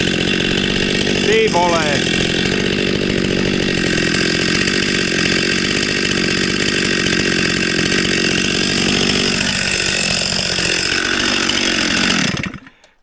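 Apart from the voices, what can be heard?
STIHL MS 261 C-M chainsaw running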